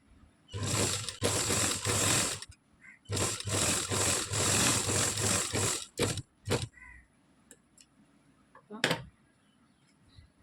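A sewing machine stitches a blouse for an older woman in two long, loud whirring runs, followed by several short stop-start bursts of mechanical clatter with quiet gaps between.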